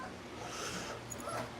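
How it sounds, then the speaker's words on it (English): A litter of three-week-old bull puppies whimpers and yips softly in a low, continuous murmur of small cries, faint and close. "These puppies turned 3 weeks old on Friday"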